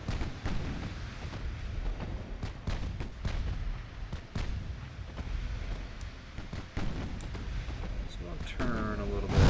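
Five-inch naval guns firing in Ultimate Admiral Dreadnoughts make a steady stream of sharp, repeated reports of varying loudness over a constant rumbling battle backdrop.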